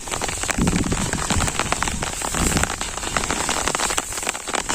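Steady, heavy rain drumming on a surface in a village during the rice harvest, with dense patter and occasional louder drops close by, no voices.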